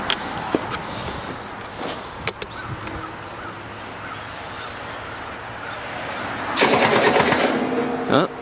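A Kohler 30kW three-phase generator engine cranking over slowly on a weak battery, a labored churning drone with a sudden louder surge near the end as it almost catches, with a few sharp knocks and clicks before it.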